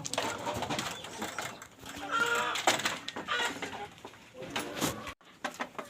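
Free-range farm chickens cluck and squawk in a busy, overlapping chorus as they come out of the coop, with scattered sharper calls rising over a steady mix of bird noise nearby.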